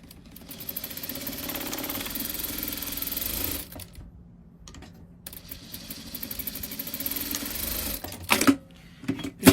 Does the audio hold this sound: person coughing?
no